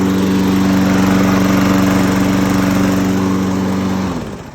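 A GTM petrol lawn mower, started with its electric starter, runs with a loud, steady engine drone and strong humming tones before the sound cuts off near the end.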